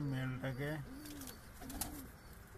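A Madras breeding pair of high-flying pigeons in a breeding loft coos with several close, throaty, rising-and-falling calls, alongside a person speaking softly.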